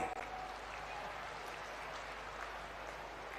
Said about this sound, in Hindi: अच्छी है तो जरा जोर से ताली बजाओ।